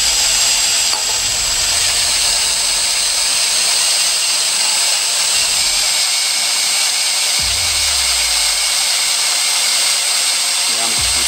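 A power drill whines loudly and continuously as it bores a hole, the motor note holding steady with brief low thumps and shifts in load, no voices over it.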